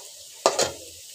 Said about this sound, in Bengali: একটু লালচে করে ভেজে নিয়েছি।